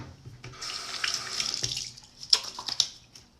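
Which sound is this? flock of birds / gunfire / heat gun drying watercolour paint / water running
water running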